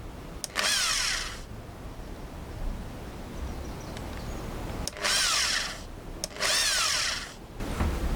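A power drill with a small 3.5mm bit whines in three short bursts into a die-cast model car, each about a second or two long, with quiet handling noise in between.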